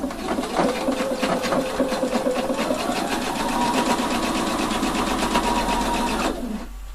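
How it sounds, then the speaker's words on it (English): Sewing machine running steadily for several seconds while topstitching 2 mm from the edge around a bellows pocket, a rapid, even needle rhythm close by that stops abruptly near the end. "I can make a top stitching all the way round by opening up and stitch it 2mm from the edge"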